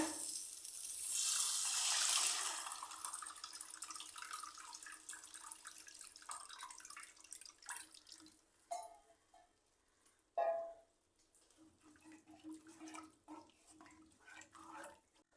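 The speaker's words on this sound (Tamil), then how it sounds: "இப்போ இந்த ஸ்டேஜில் புளி தண்ணி சேர்க்குறேன்." Tamarind water is poured into a barracuda (sheela) fish curry, with a loud, steady pour and splash in the first few seconds, then quieter scattered clinks and liquid sounds.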